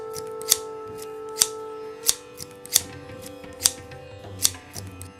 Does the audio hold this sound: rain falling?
no